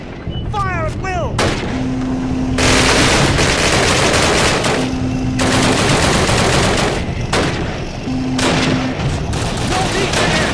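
Heavy gunfire in the first Call of Duty game: loud, sustained bursts of rifle and machine-gun fire roll on in long stretches with brief pauses, and a few quick chirping blips come first.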